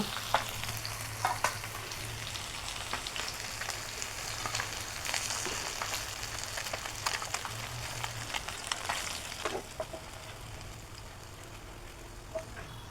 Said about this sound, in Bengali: মাছগুলো আমি এই করে ভেজে নিয়েছি এখন উঠাই নেব